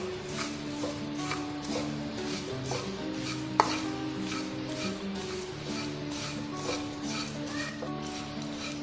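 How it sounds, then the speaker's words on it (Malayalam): Flattened rice (poha) roasting in hot ghee in a pan, heard as a steady close sizzle broken by frequent light taps and scrapes of stirring, with one sharper knock midway. "അവില് നെയ്യില് നന്നായി ഒന്ന് മൂപ്പിച്ചെടുക്കണം."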